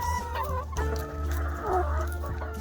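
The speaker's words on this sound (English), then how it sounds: "I decided to come out and spend some time with my chickens" Chickens clucking close by, several overlapping bird calls and murmuring clucks continuing throughout without pause.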